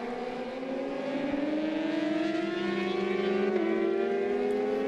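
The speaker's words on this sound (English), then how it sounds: "you just listen to the smooth roll on of both these motorcycles at the front." Supersport race motorcycles rolling on the throttle out of a corner at a MotoAmerica race in Alabama, engine notes rising smoothly in pitch together as they accelerate and draw closer, with no talk over them.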